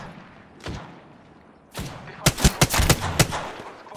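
Gunfire in Apex Legends: a couple of isolated shots, then a quick burst of several sharp, loud cracks close together, with game ambience between.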